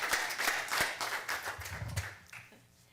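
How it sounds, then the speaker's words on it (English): Applause for Katie at a city council meeting in Turlock, a steady wash of clapping hands in a room that tapers off and fades near the end. "give her a round of applause, Katie"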